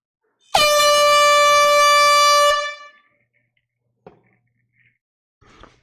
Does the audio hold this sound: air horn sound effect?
yes